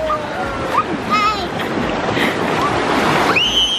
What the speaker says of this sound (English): Massive wave coming.